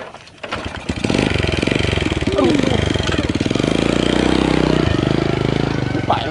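A motorcycle engine runs steadily and loudly close by after a brief start, holding a constant idle-to-mid rumble throughout while people talk over it.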